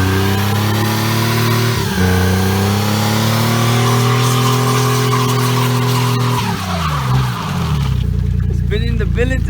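Tires on a 2004 Silverado project truck with a newly installed transmission and cam spinning and squealing, a loud sustained screech over a revving engine that winds down near the end, with people talking.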